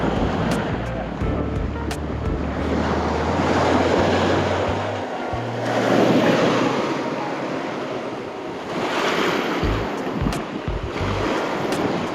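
Strong wind buffets the microphone on a beach at Shell Key, with steady surf and ocean noise underneath; low gusty rumble swells and eases throughout, loud and continuous.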